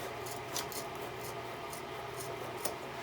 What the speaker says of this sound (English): take this insulation and give it a cut up here on top. A pair of scissors.